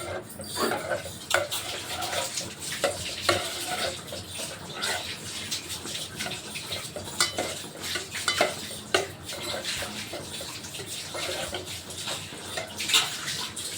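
Khoa being stirred in a pot while making kheer to keep it from sticking to the bottom, with steady scraping and clinking of a spoon against the vessel and soft wet stirring noises, close and continuous, no talking.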